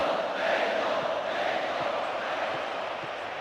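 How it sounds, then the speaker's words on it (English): Stadium crowd in the PES 2009 football video game, a Mexico versus Poland World Cup match, roaring in a steady, dense wash of cheering that holds at a loud, even level throughout. "Crowd are roaring themselves hoarse."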